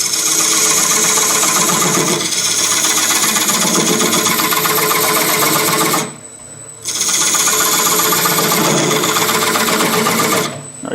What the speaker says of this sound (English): So I'm going to go in with my skew chisel, straight in. And I can remove all this wood by scraping.